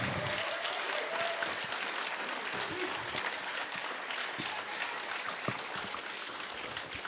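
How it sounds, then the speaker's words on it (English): Audience applause at a live candidate forum event, a sustained, even patter of many hands clapping that holds steady throughout without any talking. "So how about another round of applause for our candidates?"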